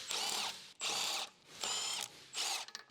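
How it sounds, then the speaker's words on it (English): A large electric impact wrench with a 17 mm deep socket removes the front wheel lug bolts on a BMW 325Ci E46 2.5L, giving four short buzzing, rattling bursts separated by brief pauses, fairly quiet and close. "With a large electric impact wrench, remove the front wheel lug bolts."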